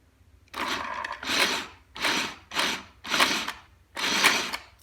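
A Shark Euro-Pro sewing machine run by foot pedal stitches in short bursts of whirring mechanical chatter, starting and stopping about five times, close and clear with no talk.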